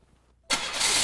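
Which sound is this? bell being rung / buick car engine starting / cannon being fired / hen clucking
buick car engine starting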